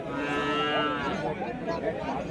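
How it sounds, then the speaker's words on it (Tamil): A Jersey cow at the Uthangarai cattle market in Krishnagiri district lets out a single loud, close, drawn-out moo that fills the moment, with faint market noise behind it. "ஸோ இதுவும் பார்த்தீங்கன்னா ஒரு ஜெர்சி மாடு."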